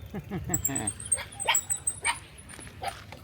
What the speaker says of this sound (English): Oh no, it's fierce little doggies.